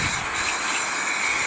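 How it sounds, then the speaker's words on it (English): Aerosol spray can painting an alloy wheel, a steady close hiss of spray running unbroken from start to finish with no pauses or talk. "As I'm spraying here, you'll see me push the can out past the wheel."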